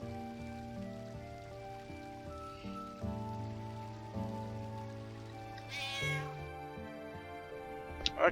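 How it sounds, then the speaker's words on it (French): A cat in Final Fantasy IX meows repeatedly over steady falling rain and a layered musical background, the calls clear and mid-distance across several seconds. "Ah, il y a un chat."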